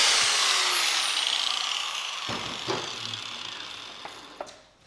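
A power tool cuts metal for a bending finger on a shop press die, a high whine that slowly winds down, with a few sharp clanks and knocks near the end.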